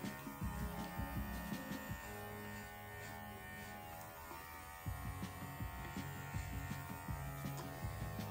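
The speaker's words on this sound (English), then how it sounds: "So again, clippers. Go up a little bit. I basically do a clipper length." Electric pet clippers run with a steady close buzzing hum while trimming the long coat of a Lhasa Apso, the motor tone dipping and shifting slightly as the blade moves through the fur, with no talking.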